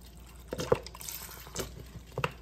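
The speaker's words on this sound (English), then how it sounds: "So I'm going to go ahead and pour this part of a bottle in here." Red wine vinegar poured from a 16-ounce bottle into a dish for Salisbury steak, with a few soft splashing drips and trickles spaced over a couple of seconds, close by and quiet.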